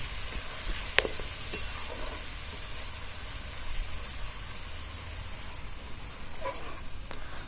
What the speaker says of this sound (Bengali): তারপর ভালো করে নাড়াচাড়া করে দিচ্ছে